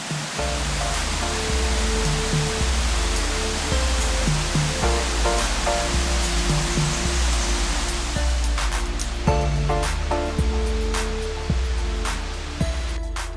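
Rain-swollen cascades on the Prowcza mountain stream in the Bieszczady, a loud, unbroken rushing roar of fast water heard close up, with no voices.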